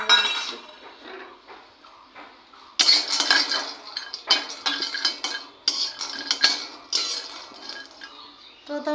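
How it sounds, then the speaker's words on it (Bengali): Peanuts dry-frying in a kadai, stirred with a metal spoon; repeated rattling, clinking scrapes against the wok that grow louder and busier after the first few seconds, close and without speech. "বাদামগুলো আমি কড়াইতে দিয়ে ভেজে নিচ্ছি একটু"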